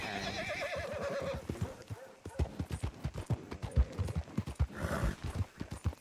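A horse in the Red Dead Online video game whinnies loudly, then its hooves clip-clop in a quick uneven rhythm close by, with a second shorter neigh near the end.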